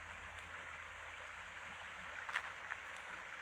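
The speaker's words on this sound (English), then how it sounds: "And you can also hear the babbling brook down here." Soft, steady wash of a babbling brook running through a Galilee nature area, low and continuous throughout with a few faint splashy ticks near the end and no voices.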